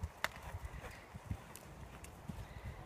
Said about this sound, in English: That's a nice canter.